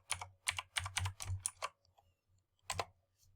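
Password entered on a computer keyboard: a quick close run of about eight crisp key presses, a short pause, then one or two final taps, alone in a quiet room.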